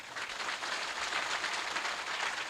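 Audience clapping at a crowded religious gathering at Bramheshwar Dham, a dense, even wash of applause sustained for the whole stretch at moderate level.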